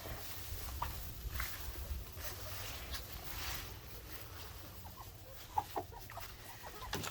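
A rooster and hens in a farmyard shared with turkeys cluck softly and intermittently, scattered short calls at moderate distance over a faint low background hum.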